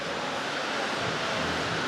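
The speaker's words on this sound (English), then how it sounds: "It's actually not rain, it's hail." Hail falling outside in a steady, dense hiss that fills the whole stretch without a break, with no voices over it.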